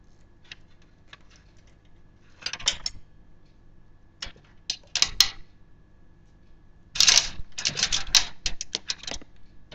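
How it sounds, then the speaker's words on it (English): A plastic zip tie is ratcheted tight around a connector inside a desktop computer case, giving bursts of fast dry clicking separated by quiet pauses, near and fairly faint, with no talk. "Let's make sure I get the zip tie the right way."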